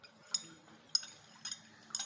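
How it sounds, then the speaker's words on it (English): A spoon stirring powder into a lab solution so it dissolves, giving four light glassy clinks spaced about half a second apart against a quiet background. "I would have to stir for the powder to dissolve completely"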